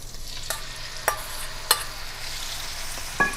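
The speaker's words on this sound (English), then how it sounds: "Now we're gonna put in our shrimp" Shrimp dropped into hot oil in a home kitchen for shrimp alfredo pasta, giving a steady low sizzle with a few sharp spatters and clicks scattered through the stretch.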